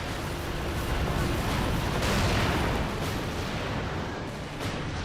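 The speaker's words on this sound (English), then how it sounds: "cannon fire has killed them all" Continuous heavy roar of sixteenth-century cannon fire at a battle, a dense, rumbling barrage with swelling surges, loud and sustained without clear separate shots.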